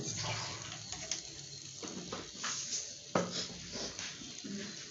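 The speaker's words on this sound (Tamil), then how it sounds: "கடுகு பொரியுது" Mustard seeds splutter in hot oil in a home kitchen, giving faint, scattered pops and crackles over a quiet, steady sizzle.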